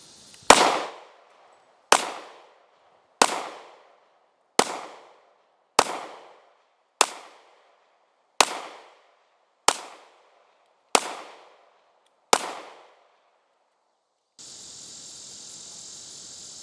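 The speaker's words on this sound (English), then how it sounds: "it's a little tough to rapid fire" An FN FNX-40 pistol fires ten rapid shots at a shooting range, each a sharp loud crack with a brief decaying tail, evenly spaced about a second apart, followed by a steady hiss.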